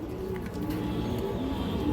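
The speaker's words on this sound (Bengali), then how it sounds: "এই দেখেন সবুজ গলা কবুতর, পুরোনো জাতের কবুতর" Green-necked pigeons of an old breed coo in a loft, faint repeated low murmuring calls running steadily under a continuous background hum.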